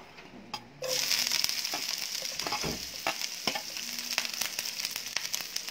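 Garlic hitting hot oil in a pan for garlic shrimp, with an abrupt loud sizzle that keeps crackling while a spatula scrapes and stirs now and then; no voices.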